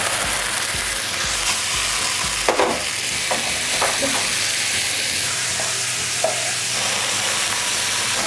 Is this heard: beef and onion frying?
yes